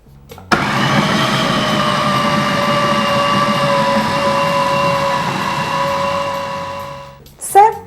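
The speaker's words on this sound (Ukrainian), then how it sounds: "Перекладаємо нашу печінку з овочами до кухонного комбайну, або, якщо у вас немає комбайну, можете використати блендер, та розмолюємо усе до однородної консистенції." A kitchen food processor grinds cooked liver with vegetables into a smooth purée, giving a loud, steady motor whir that runs for about seven seconds before cutting off. A brief clatter follows as it stops.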